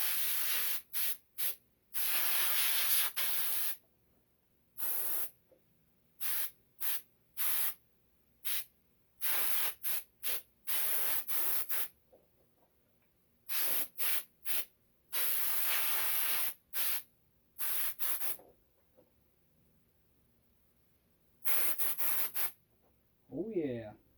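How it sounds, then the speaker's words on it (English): An airbrush sprays base paint onto a latex foam prop in many short hissing bursts, some brief and some held for a few seconds, close and clear with quiet gaps between. "trying to dial this airbrush back just a little bit"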